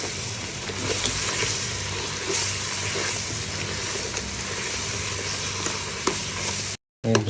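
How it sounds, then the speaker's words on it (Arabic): Mushrooms stirred into a flour roux in a pan for cream of mushroom soup give a steady, close sizzle with soft scraping throughout. The sound cuts out briefly just before the end. "ونقلب بقى عليه المشروم."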